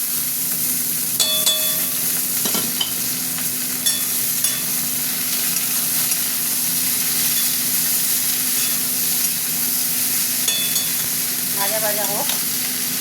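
Okra and onion frying together in a pan, a steady sizzle under repeated stirring scrapes and a few sharp clinks of the spatula against the pan; no voices.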